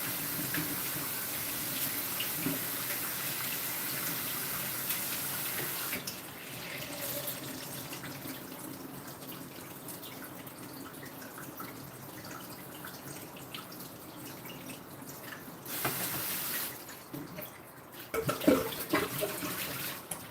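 Hot, then lukewarm, then cool water runs steadily from a tap during a rinse and wash, a continuous close splashing stream that shifts in tone midway with brief louder gushes near the end, no voices.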